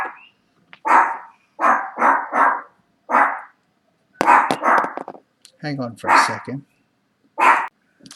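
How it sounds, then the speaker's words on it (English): A small but loud dog barks indoors in sharp, repeated bursts of yaps with short pauses between them. Someone briefly speaks between the barks. "Sorry, my dog is barking at my son."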